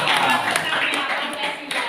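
A school class applauds in a short burst of brisk group clapping, close and fairly loud, with voices mixed in underneath.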